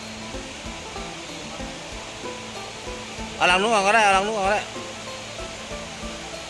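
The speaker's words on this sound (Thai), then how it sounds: "เสียงสวดสวดเสียงน้ำตกนะครับเด้อเสียงน้ำฝายตก" Water rushes steadily over a weir, a constant hissing roar, while a voice briefly speaks over it partway through.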